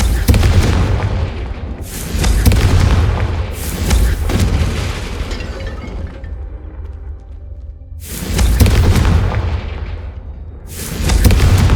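Repeated loud explosive blasts from the Confringo fire spell in the Hogwarts Legacy video game, four booming bursts spaced a few seconds apart, each with a broad crackling impact and a decaying rumble.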